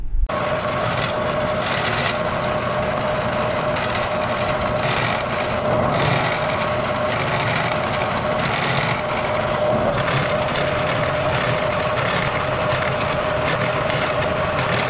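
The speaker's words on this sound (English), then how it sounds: "Now we're gonna mill everything flat." A milling machine cutting a Subaru transmission case flat for an off-road rail buggy, producing a loud, continuous grinding rasp with steady intensity and a sustained machine whine from start to finish.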